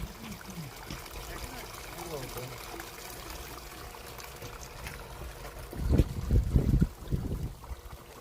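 Groundwater pours out of a drain trench under an inground swimming pool in a steady trickling stream, with a louder surge of splashing near the end. A voice talks faintly over the flow.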